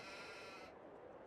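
A sheep bleats in the Farming Simulator 22 video game, a sustained tonal game-animal call that stays steady for a moment before cutting off partway through the short sound.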